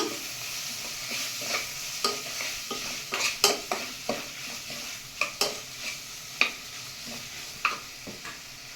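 Ginger garlic paste sizzles in a hot pan for masoor dal tadka while a spoon stirs it, a soft steady frying hiss broken by sharp irregular scrapes and taps against the pan, with no voices.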